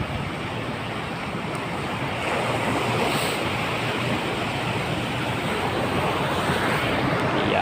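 Waves wash steadily onto a beach at the seaside, a broad, even surf roar with some wind noise, growing slightly louder partway through and with no one speaking.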